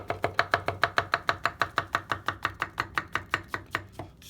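A chef knife chopping vegetables on a cutting board, a fast, even run of about twenty crisp taps that speeds up slightly, close and clear with no talking.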